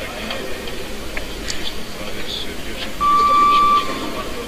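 A steady electronic buzzer tone sounds for just under a second at a weightlifting championship arena, heard faintly beneath a commentator's voice and general crowd hum.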